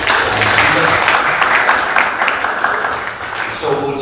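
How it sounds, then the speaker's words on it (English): Audience applause at a talk-show forum, steady and loud across the whole stretch with a dense wash of clapping that thins slightly near the end, a voice faintly audible beneath it. "Can we please give a round of applause for"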